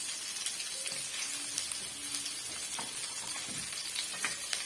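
Grated coconut sautéing in a hot pan gives a close, continuous sizzle with crackly pops and faint stirring scrapes, steady throughout.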